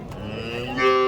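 A dairy cow at a cattle market moos once, close by, a long low call that rises and grows louder toward the end.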